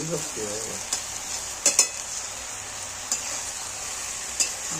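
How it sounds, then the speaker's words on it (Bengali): Food is stirred in a hot pan while a steady sizzle carries on throughout. A utensil scrapes and clinks against the pan a few times. "এই খুলে খুলে 1000 বার নাড়তে হবে তো"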